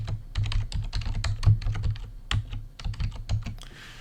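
Rapid typing on a computer keyboard, a brisk run of close, crisp key clicks in an irregular rhythm with a few heavier strokes, alone without any voice.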